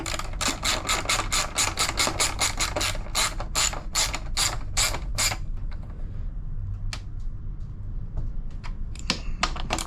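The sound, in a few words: tightening bolts on Honda EU7000 generator with ratchet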